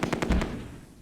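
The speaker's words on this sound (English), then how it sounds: "Oh, that was a mortar." Mortar shell bursts in the WWII strategy game Close Combat: A Bridge Too Far, a quick series of sharp, loud blasts with a deeper thud, then a rumbling tail fading over about a second.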